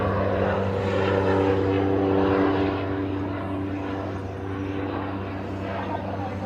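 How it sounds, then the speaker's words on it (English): A Boeing 787 Dreamliner airliner arrives at Honolulu, its engines giving a broad, steady roar at fairly close range that swells and then eases slightly. "It's the normal Dreamliner."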